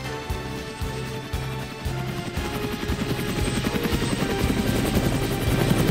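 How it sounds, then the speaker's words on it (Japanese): Steady helicopter rotor chop from a drama CD sound effect, loud and continuous with a rhythmic low thumping that builds slightly over about six seconds, no voices. "ヘリに乗ってお別れするぞ"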